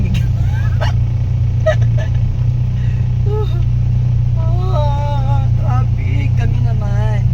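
Steady road traffic rumbles in the background of a congested street while people talk over it, with a low continuous engine drone throughout and occasional honks or squeaks.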